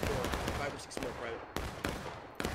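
Musket volley fire in the War of Rights battle game, with several loud sharp cracks at irregular intervals over a dense backdrop of distant battlefield noise and faint voices.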